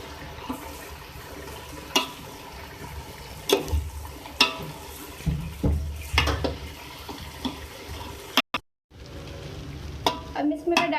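Rice being stirred into a pot of beef chana daal, giving scraping, sloshing strokes in an irregular rhythm, close and fairly loud, with a brief silent gap near the end.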